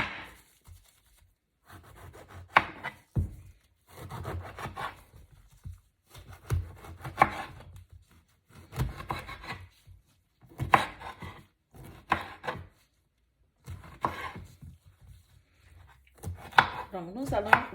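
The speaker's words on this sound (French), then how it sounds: "Nous allons d'abord découper notre citron en petits morceaux." A knife chopping a lemon into small pieces on a cutting board, with repeated close, crisp cuts in irregular bursts and short pauses between them.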